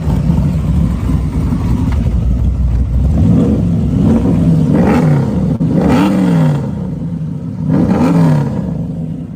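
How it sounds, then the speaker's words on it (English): A custom muscle car with a loud aftermarket exhaust idles with a deep rumble, then is revved in several rising blips close by, with no talk over it. "Listen to that exhaust note, it sounds awesome."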